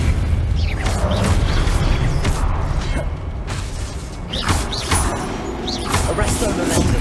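A Depulso spell in Hogwarts Legacy sets off a run of creaking mechanical clatter and booming bursts, several sharp impacts spread across a dense, loud game soundscape with speech-like murmur underneath.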